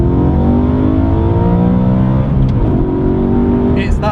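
A Mercedes C63 AMG or BMW M3 accelerates hard, its engine note rising through the revs, dipping briefly at a gear shift and climbing again, loud and close from inside the cabin.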